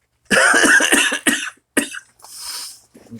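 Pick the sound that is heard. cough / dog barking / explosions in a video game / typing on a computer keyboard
cough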